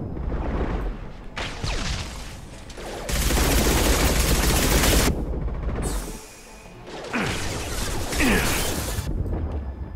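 Bursts of rapid weapon fire from the Mass Effect 2 video game, loud and close, with sustained automatic volleys broken by whooshing and impact effects.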